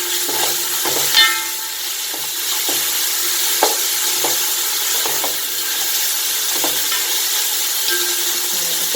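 Food in a pan sizzles steadily just after salt goes in, a continuous loud hiss broken by occasional clinks and scrapes of stirring, with no voices.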